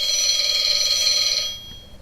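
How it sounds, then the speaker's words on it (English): A Halloween toy rotary telephone rings with a bright, rapid electronic bell trill. The ring is close and loud, lasts over a second, then cuts off into quiet. "So if you turn the rotary enough to click this thing here, it rings a couple times."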